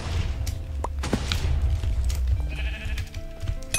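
Sheep bleating in Hypixel Minecraft, a few short bleats among thumps, whip-like cracks and game effects, loud and close with no talk.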